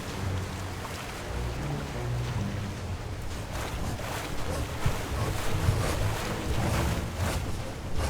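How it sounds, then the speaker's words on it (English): A King's Quest character paddles a small boat with his hat in a video game, giving a steady wash of water and wind-like noise that runs throughout with no clear separate strokes. "He uses his hat to paddle, which is hilarious."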